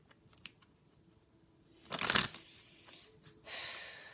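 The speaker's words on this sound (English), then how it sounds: "I need to shuffle these up. They need to be more mixed" Playing cards shuffled by hand, a faint riffle early on swelling into one loud burst of shuffling around the middle, followed by softer rustles and a final stretch of handling, with no talking.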